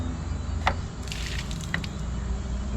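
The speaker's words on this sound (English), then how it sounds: "water will come out just like that." Water drains out of the gray water tank of a Forest River Salem Hemisphere travel trailer in a steady splashing trickle, with a few brief drips and spatters over a constant background rush.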